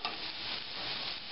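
Vegetables frying in a pan while being stirred, a steady soft sizzle with light scraping, fairly quiet and brief, no voices.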